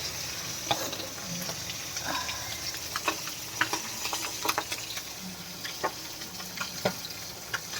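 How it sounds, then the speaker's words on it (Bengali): Fish fries in a pan with a soft, continuous sizzle and scattered crackles and pops, heard close and fairly quiet. "এই যে মাছ ভাজা হচ্ছে"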